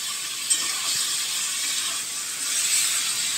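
Marinated mutton hitting frying onions in a pot for a mutton curry gives a steady loud hiss of steam and sizzle, constant throughout with no voices.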